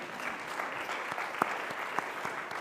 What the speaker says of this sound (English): Go ahead, clap for that.